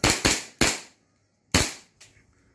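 A TTI Pit Viper replica pistol from John Wick 4 emptying its magazine: a handful of sharp, loud, close shots, three in quick succession, then a pause before two more, each snapping off with a short decay.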